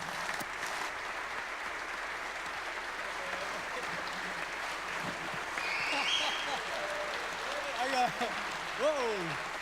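An audience applauds a speaker's introduction at an evening ALS benefit event, with steady sustained clapping that swells near the end while cheers and voices rise over it.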